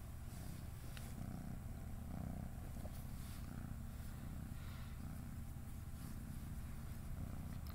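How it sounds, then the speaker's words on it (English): A female cat purrs steadily up close, a soft continuous rumble that holds for several seconds with no talking over it. "If you wanted to see my cat"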